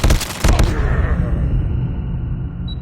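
A nail gun fires in Call of Duty Mobile: a loud burst of rapid, cracking shots in the first half-second, then a long ringing, rumbling decay with no speech.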